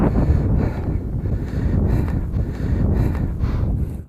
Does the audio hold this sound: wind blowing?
yes